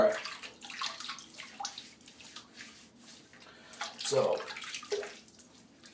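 Running water from a tap splashing over a man's head to wet it before shaving, an uneven close gush that swells and fades in bursts, with someone speaking briefly.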